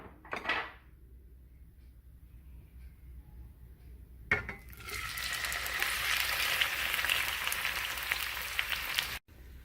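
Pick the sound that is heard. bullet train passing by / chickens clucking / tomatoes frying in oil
tomatoes frying in oil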